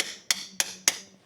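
Pry bar punching a hole in an engine core plug on a Vauxhall Insignia: three sharp metallic taps, evenly spaced about a quarter second apart, close and crisp.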